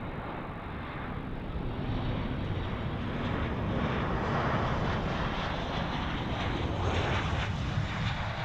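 A Virgin Australia airliner on flight VA324 from Brisbane arrives at Melbourne Airport, its engines making a steady, broad roar at moderate distance that holds throughout with no talking.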